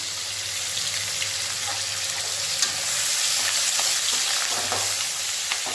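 Tomatoes and curry leaves frying in a pan for beetroot kootu, a steady close sizzle with soft stirring scrapes and occasional light pops throughout.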